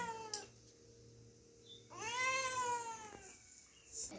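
A pet cat meows near the kitchen while pitha is being made: a short call, then a longer rising, drawn-out meow and a brief final cry, clear against quiet room tone.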